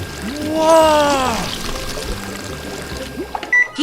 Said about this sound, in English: The slushies are ready to serve. I'll pour them into the cups.